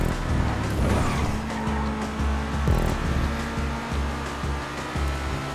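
In a GTA street race, a video game car engine drones and revs continuously in a loud, steady roar, with slight rises and dips in pitch as it runs.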